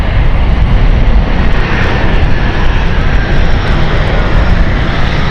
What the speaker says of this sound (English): We've also got the ATR 72 of Logan about to